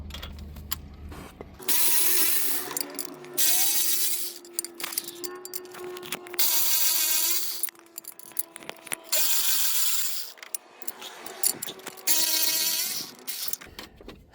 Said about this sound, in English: right now we use the ratchet just to speed up the process